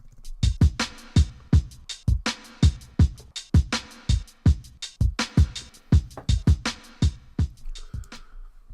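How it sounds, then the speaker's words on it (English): Isolated drum track with sharp kick and snare hits in a steady groove, punchy and dry, playing alone without other instruments or voices. "then the drums will sound a little like this"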